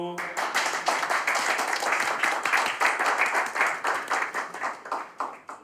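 Dense audience applause fills a hall at a stage show, many overlapping hand claps at a steady, full level from start to finish, close and continuous, with no voices rising above it.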